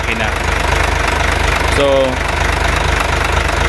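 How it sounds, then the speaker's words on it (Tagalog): An Isuzu Forward dump truck's 6HE1 diesel engine idles steadily with a close, rhythmic low knocking throb, while someone speaks briefly over it. "And this is the engine, 6HE1."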